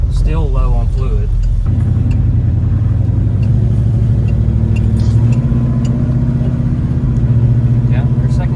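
Big block El Camino engine drives under load and works through gears, a steady loud low rumble with pitch changes as it shifts, low on transmission fluid and shifting softly; someone talks over the start.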